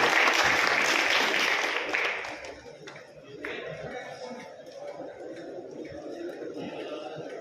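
Applause from an audience at a felicitation during a commerce event, loud dense clapping for about two seconds, then fading into softer scattered claps and low chatter.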